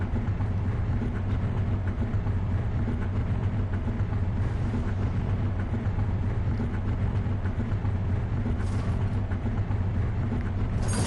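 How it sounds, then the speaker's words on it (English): A Luxor Goldtrail car engine runs in Car Mechanic Simulator, a steady low rumbling drone that stays constant and fairly loud throughout. "Oh, that engine sounds pretty cool."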